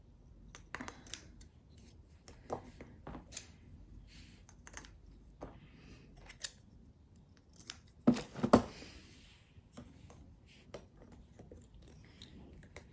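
Scissors snip bits off cheap Christmas decorations, a sparse series of quiet, sharp cuts and rustles spread irregularly, with one louder cluster of snips partway through.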